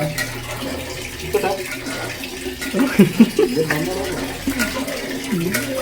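Water poured into a pan for making upma runs in a steady splashing gush, with brief voices talking over it partway through.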